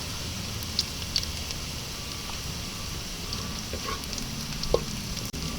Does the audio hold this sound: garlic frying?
yes